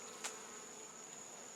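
Honeybees shut inside a propane tank give a faint, steady buzz with a thin high whine and one brief louder burst near the start, with no voices.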